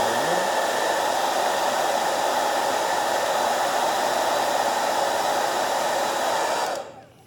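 A hair dryer blowing hot air to heat an iPhone X screen during repair, a loud, steady close whoosh with a constant whine that cuts off near the end.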